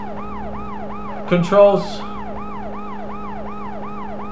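A police car siren from the World's Scariest Police Chases video game wails in a steady repeating up-and-down sweep throughout, joined by a brief burst of other game noise in the middle, with a short spoken word.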